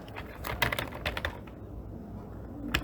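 Computer keyboard typing during late-night coding, quick irregular key clicks close up, pausing briefly before a final few taps.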